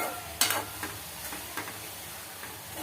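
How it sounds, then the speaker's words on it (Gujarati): Green eggplant bharta paste fries in a pan over a medium flame, with a continuous soft sizzle broken by several sharper scrapes and clacks as a spoon stirs it. "અહીંયા આપણે લીલો ઓળો બનાવવો છે ને તેને આપણે સારી રીતે મિક્સ કરી દઈશું"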